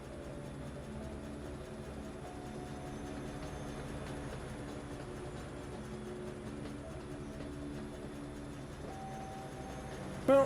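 A video-game train running at maximum forward speed, a steady loud mechanical rumble with sustained droning tones throughout, no pauses, ending in a brief burst.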